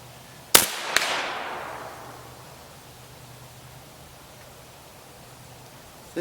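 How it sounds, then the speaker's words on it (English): A 20mm air pistol fires once at a target with a sharp crack followed by a long fading hiss, then a faint second knock near the end. "Shoot the upper target."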